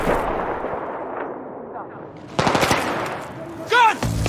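Battlefield 3 combat, with loud close bursts of rifle and machine-gun fire crackling over a rumbling battlefield bed, and shouted voices breaking in near the end.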